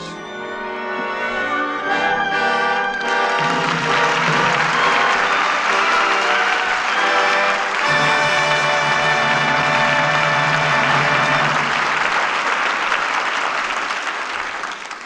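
A studio audience at Lux Radio Theatre applauds after the broadcast play, a full, sustained wash of clapping with orchestral music swelling over it throughout.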